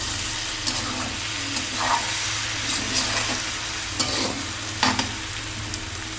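Rohu fish head curry is stirred and fried in a pan, giving a steady close sizzle with scraping spatula strokes and occasional clinks recurring every second or so.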